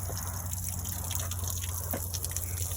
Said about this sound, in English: that's water coming out of the live well.